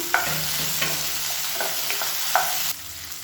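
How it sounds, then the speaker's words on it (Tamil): Tomato and dried red chillies sauté in hot oil for a garlic chutney, giving a steady close sizzle with a few sharp clinks of a spoon stirring against the pan, and no voices. "இதில் வந்து பெரிய தக்காளியாக ஒரு தக்காளி நல்லா இந்த மாதிரி கட் பண்ணி வச்சுருக்கேன். இதையும் சேர்த்து வதக்கிக்கலாம்."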